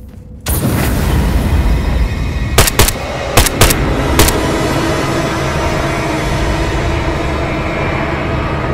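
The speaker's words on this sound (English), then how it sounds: "I was just throwing a grenade." Grenade explosions in the military game Arma 3, a sudden loud blast at the start followed by a sustained roaring rumble with several sharp cracks and bangs around the middle, no talk.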